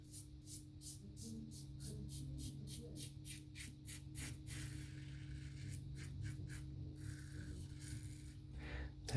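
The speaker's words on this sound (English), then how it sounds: "Now that noise is mainly blade chatter." Wolfman WR1 safety razor with a Wizamet blade scraping skin during a shave, a series of faint, rhythmic rasping strokes with blade chatter, close up over a low steady hum.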